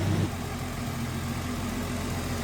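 A 1963 AMC Rambler Classic 550 two-door sedan idles smoothly and steadily close by, with an even low engine rumble throughout and no talking.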